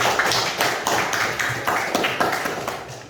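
Classmates in a school lesson on the dangers of cigarette smoke clap for their peers, a fairly close, steady patter of hands with rhythmic surges lasting about three seconds.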